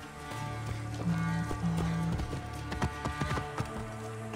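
Hooves clip-clop in a quick, irregular rhythm from a galloping horse in Assassin's Creed: Origins, with steady tonal music humming underneath.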